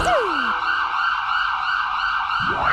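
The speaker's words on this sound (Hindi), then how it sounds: "ये तो पुलिस की सायरन की आवाज है ना?" A close, loud siren holds a steady high wail, a brief falling whoop at the start and a rising sweep near the end.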